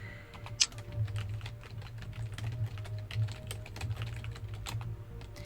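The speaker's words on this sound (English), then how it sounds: "Let's start typing." Keys clatter steadily on a computer keyboard during a typing session, a close, continuous run of quick clicks over a low steady hum, with no talking.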